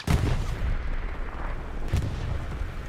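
Bombing run explosions in the Hell Let Loose video game, two heavy booming blasts a couple of seconds apart with rumbling debris between them, loud and close.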